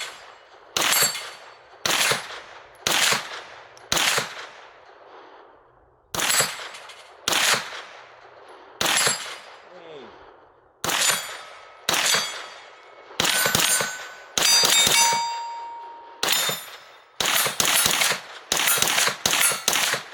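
Gunshots from a Troy A4 9mm pistol caliber carbine fired unsuppressed, about eighteen sharp, loud reports with ringing tails, spaced roughly a second apart and then quickening into a faster string near the end, with no talk.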